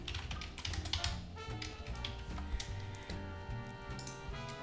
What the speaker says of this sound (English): Let's go by first typing in your brand.